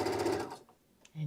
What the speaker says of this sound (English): we're done with the sewing machine for now